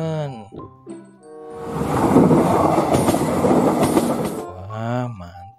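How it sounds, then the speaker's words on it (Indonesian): Yellow toy Thomas train running with a rattling, clattering rumble for several seconds at close range, with a voice talking before and after. "Bebeknya mengangkut kereta Thomas warna kuning"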